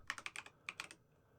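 Quick bursts of typing on a computer keyboard, about ten close, crisp keystrokes in two rapid runs, then quiet.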